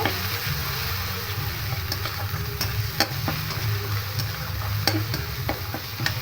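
Spices stirred through onion, ginger and garlic in a pan, a steady sizzle of frying with scraping stir strokes and small clicks, close and continuous with no talking.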